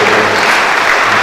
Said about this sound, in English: Let us give a big clap of hands to these people who have a very good vision for us.